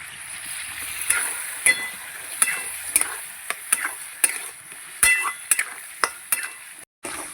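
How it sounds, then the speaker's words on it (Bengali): Spices with turmeric and a splash of water are stir-fried in a pan. A spatula scrapes and knocks repeatedly against the pan over a bright, close sizzle, with no one talking. "আর একটু জল দিয়ে দেবো, দিয়ে আমি কষাবো খুব ভালো করে"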